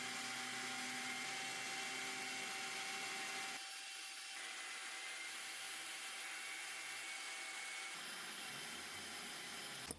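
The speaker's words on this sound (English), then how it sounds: "So I moved back to sanding." An electric sander works over a wooden side table being refinished, a steady loud whir that drops slightly in tone partway through and continues without pause.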